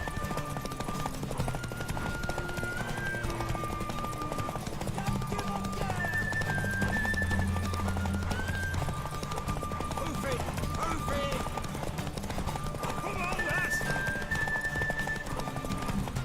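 Hooves clip-clop at a run from a horse in the video game Witcher 3, with whinnies and neighs, set against a game music score and brief bursts of spoken dialogue.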